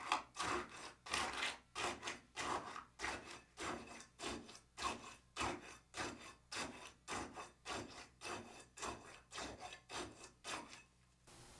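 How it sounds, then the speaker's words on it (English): Tamping rod repeatedly rodding fresh concrete in a cylindrical test mold, about twenty rhythmic gritty strokes at a steady pace, close and fairly quiet with no talking. "Rod the last layer 25 times, making sure you penetrate the second layer by approximately 1 inch."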